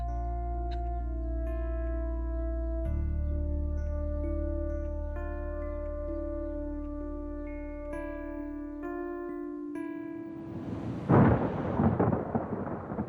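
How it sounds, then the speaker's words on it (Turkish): A rumble of thunder rolls in near the end of a storm, swelling into a loud, broad crash over a sustained, droning musical score. "Şimşekten mi korktun?"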